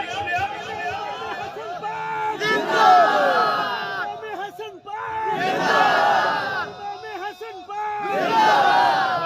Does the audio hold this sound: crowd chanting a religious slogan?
yes